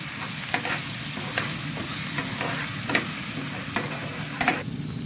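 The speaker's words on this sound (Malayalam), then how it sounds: "ഇത് നമുക്ക് എല്ലാം കൂടെ ഒന്ന് നല്ല രീതിയിൽ ഇളക്കി കൊടുക്കാം" Onions sizzle in hot oil in a pan with salt added, with a steady frying hiss and intermittent sharp scrapes and knocks of a spoon stirring them, close and clear.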